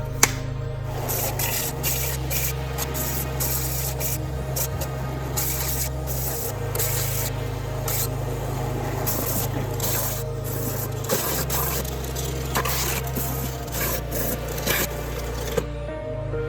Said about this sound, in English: now we're gonna sand edges of these all flat so that it's all curved and flat